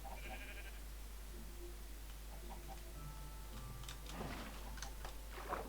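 A sheep in the Minecraft video game bleats a few times, quiet and brief, alongside soft ticking and other faint in-game sounds with no talking.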